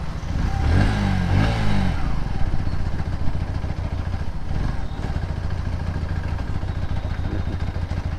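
A Bajaj Pulsar NS 125 motorcycle riding along, its engine droning steadily and close for the whole stretch, with a brief louder rise early on and rattly road noise throughout; no one speaks.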